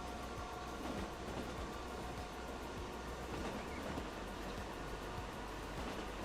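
A train rolls along in the Transport Fever 2 simulation game with a steady, continuous rumble and faint clattering from the wheels. It sounds fairly close and stays at an even level the whole time.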